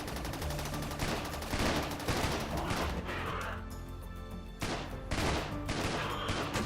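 Dense, sustained gunfire from a firefight in the colony-building game RimWorld, overlapping shots in a continuous volley that swells and dips, with one sharp, loud burst partway through and no one talking.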